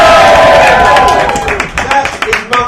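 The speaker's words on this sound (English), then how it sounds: "whooping, cheering, foot stamping!" A live studio audience cheers, whoops and stamps its feet in a loud, dense roar that gradually thins into scattered claps and thumps.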